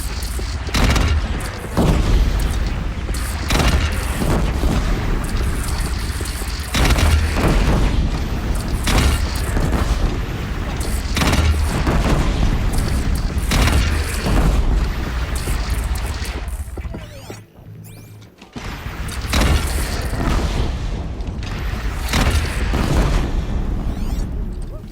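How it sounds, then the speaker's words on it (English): Repeated heavy booms of cannon fire during a battle in the video game Horizon Zero Dawn, loud and close, firing in an irregular series with a brief lull near the end. "They only have one cannon!"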